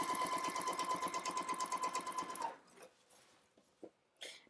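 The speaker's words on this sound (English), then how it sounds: "So you're just going to sew this at sew this at 5/8 of an inch all the way around." A sewing machine stitches a seam on Jo jumpsuit pants at a 5/8-inch allowance, giving a steady rapid mechanical whir for about two and a half seconds before it stops, followed by faint handling noises.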